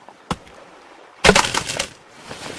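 Wood being chopped in the Stranded Deep survival game: a single sharp chop, then a louder splintering impact with crackling debris that fades, close and alone without talk.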